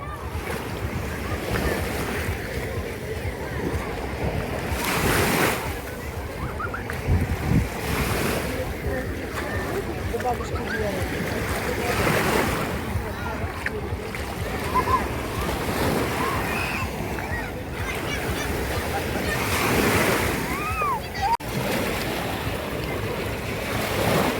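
Sea waves roll onto Langeron beach in Odesa, surging and receding in slow, close, loud swells with steady wind noise on the microphone.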